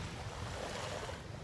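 Waves wash in at Kite Beach in Dubai with wind rushing across the microphone, a steady broadband roar with no talking.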